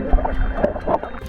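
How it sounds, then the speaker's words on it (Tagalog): A strong water current rushes and gurgles near a sunken Japanese warship dive site off San Francisco, Quezon, with a steady churning wash and bubbling pulses close to the microphone, and no voices. "Ang lakas ng agos."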